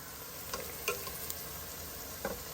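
Onions frying in a pan for jowar upma, a soft steady sizzle with a few light clicks and stirring taps, fairly quiet and heard alone.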